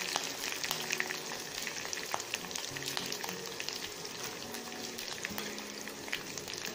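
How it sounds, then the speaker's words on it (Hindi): Cumin and mustard seeds frying in hot oil, a faint, steady sizzle with scattered small pops and crackles, heard fairly quietly and alone. "अब इसका थोड़ा कलर चेंज होने तक हम इसको फ्राई कर लेंगे ऐसे ही।"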